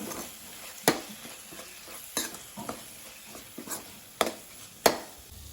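A spoon mixes chili powder into rajma sambar masala in a pan, with about six distinct scraping knocks against the metal over a faint, steady sizzle.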